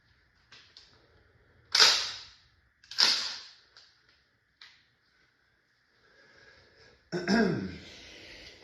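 An Umarex T4e HDX 68 air pistol running on two 12-gram CO2 cartridges fires two sharp, close cracks about a second apart, with smaller clicks and handling noise around them and a louder burst near the end.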